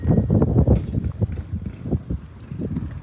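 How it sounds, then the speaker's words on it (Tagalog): Strong wind gusts across a car campsite at a Viewscape site with an awning tent, buffeting the microphone in loud, uneven low rumbles that rise and fall throughout. "Kasi sobrang hangin"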